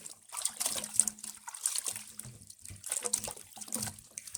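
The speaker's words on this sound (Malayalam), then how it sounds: "വെള്ളം ഒഴിച്ചിട്ടേ നന്നായി കഴുകിയെടുക്കാം." Tap water pours and trickles into a sink while chicken is washed, with uneven splashes and dribbles throughout, close and moderately quiet, no speech.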